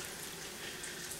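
Home-canned turkey broth poured into a dish, a steady wet splashing pour throughout, fairly quiet and close, with no talk.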